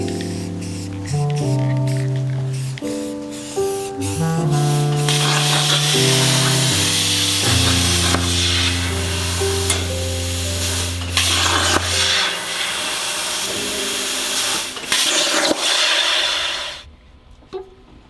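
A spray can paints plastic car interior trim black for a mid-engine Eclipse, its steady hiss sitting under loud background music through most of the stretch before cutting off near the end.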